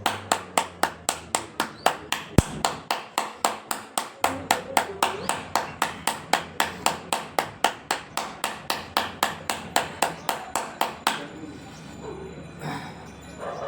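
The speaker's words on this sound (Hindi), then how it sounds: "और एक बार पुनः ताली से करते हैं।" Steady rhythmic hand clapping during a yoga exercise session, about three claps per second, close and crisp, continuing for roughly eleven seconds before stopping as a voice speaks.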